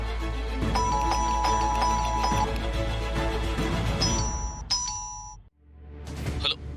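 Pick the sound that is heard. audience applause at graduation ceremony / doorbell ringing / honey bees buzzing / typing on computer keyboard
doorbell ringing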